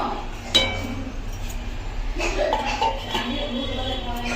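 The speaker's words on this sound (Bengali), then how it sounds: "এবার ফোটা না অবধি একটু ঢাকা দিয়ে রাখবো।" A lid clinks onto a pot of sardine fish curry in a kitchen, one sharp metallic tap followed by a few faint knocks and low kitchen noise.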